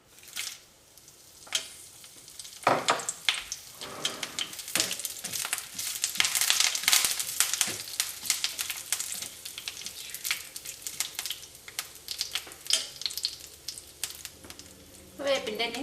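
Dried red chillies and leaves crackle and sizzle in hot oil for a Kerala-style bitter gourd thoran, a steady close frying hiss with sharper spitting pops throughout.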